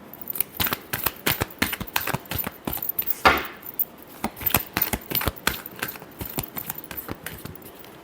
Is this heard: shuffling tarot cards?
yes